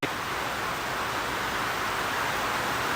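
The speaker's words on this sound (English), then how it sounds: "Once again, we apologize for the rain." Steady, dense hiss of heavy rain, constant and close throughout with no pauses and no voices.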